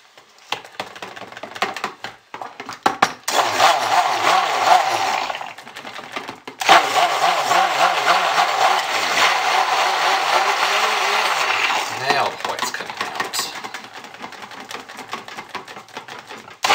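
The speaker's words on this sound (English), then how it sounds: "I think I'm going to have to stick blend that" A handheld stick blender whirs steadily with wavering pitch while mixing soap, blending for several seconds with brief pauses and clatter, loud and close.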